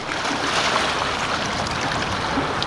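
Waves wash in at the San Francisco waterfront with a continuous broadband rush and hiss of surf, steady and fairly close throughout, with no voices.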